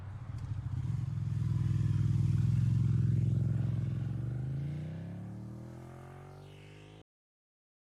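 A car engine in a visual novel game revs loud and close, then the tone falls away as it drives off, ending in a sudden cut to silence.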